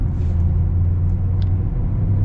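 A Jeep Gladiator with a manual transmission crawls along in first gear, its engine giving a steady low rumble with even road noise throughout, no voices present.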